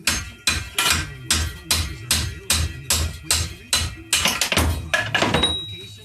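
Repeated hammer blows driving an old case bushing out of a 4L60E transmission case, about a dozen sharp metallic strikes at a steady rhythm, loud and close with ringing decay, no talking.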